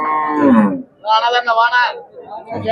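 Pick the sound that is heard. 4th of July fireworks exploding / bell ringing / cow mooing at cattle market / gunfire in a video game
cow mooing at cattle market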